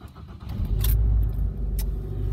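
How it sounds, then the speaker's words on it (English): A Ford Focus is started with the key: a brief jingle of keys, then the engine cranks and catches into a steady, close idle over about two seconds, with no talking. "Now, turn the car on."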